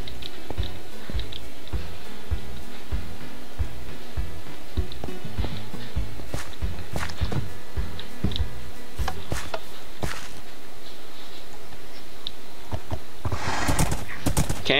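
Horse hooves clip-clop steadily in Minecraft WynnCraft, a rhythmic trot with neighing and whinnies mixed in, close and fairly loud, with a brief rustling burst near the end.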